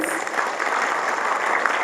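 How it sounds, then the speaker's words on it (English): Loud, dense applause from a tech awards audience in Bengaluru, a continuous wash of many hands clapping evenly throughout with no one speaking over it. "giving our jury a big round of applause, please"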